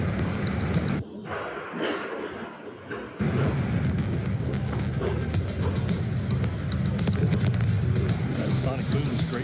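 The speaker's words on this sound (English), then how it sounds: "Just heard the 2 sonic booms here in the room." Two sonic booms from a landing Falcon booster reach a room as heavy, broad rumbling blasts, loud and sustained, with people talking over them.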